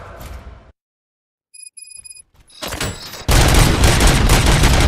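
Rapid video game gunfire in RoboCop: Rogue City erupts, a few sharp synthetic shots followed by a loud sustained burst of automatic fire with bright beeping tones just before.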